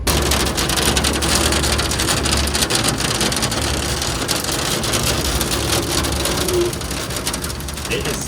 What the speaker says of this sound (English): we got our rain ride on the sky ride